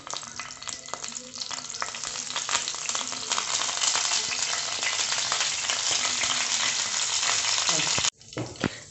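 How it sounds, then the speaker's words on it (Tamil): Curry leaves crackle and sizzle in hot oil, a loud, close, continuous frying hiss with small pops throughout, stopping abruptly near the end before a brief quieter clatter. "இப்போ நான் கறிவேப்பிலை போடுறேன்."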